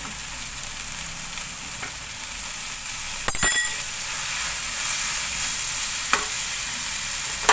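Chicken fried rice being mixed in a wok over a high gas flame: a steady, loud sizzle and fry hiss runs throughout, with a couple of brief metallic clanks from the utensil against the pan.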